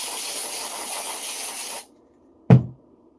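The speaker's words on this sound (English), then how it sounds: "And you just want to spray inside all around." A spray can of alcohol cleaner hisses steadily for nearly two seconds into an RC motor, close and loud, then stops and is followed by a single short knock.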